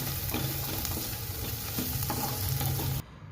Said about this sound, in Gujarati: પાઉંભાજી મસાલાને મિક્સ કરી દઈએ